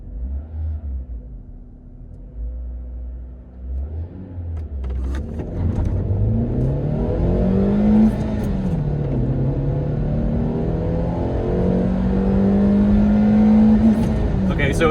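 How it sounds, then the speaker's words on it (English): A Peugeot 307 car accelerating hard from 0 to 100 km/h, the engine rising in pitch through several gears with brief dips at each shift, loud and close from inside the cabin. "so this is the 0 to 100 in the Peugeot 307."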